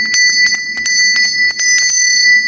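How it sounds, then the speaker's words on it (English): An old, heavy cast iron bell is rung repeatedly right up close, with about nine bright, loud metallic strikes in an uneven rhythm, each ringing on with a sustained tone. "Then I grabbed this old cast iron bell, and it was down in the basement in the video."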